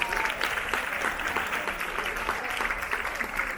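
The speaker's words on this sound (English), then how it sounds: "Give yourselves a round of applause." Applause from a cruise ship show audience, a steady dense patter of many hands clapping throughout, moderately loud and without talk.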